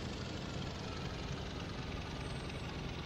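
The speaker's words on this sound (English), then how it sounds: "Look at that. That's your straw plane." A straw plane flies overhead in Farming Simulator 17, giving a continuous whirring aircraft engine drone that holds steady and fairly loud throughout, with no talk.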